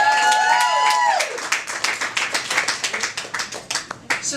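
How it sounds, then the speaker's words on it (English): Audience at a press conference applauds high school students, the claps coming in after a spoken voice fades, then thinning into scattered, distinct individual hand claps near the microphone. "Round of applause"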